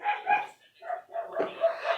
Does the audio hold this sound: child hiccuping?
no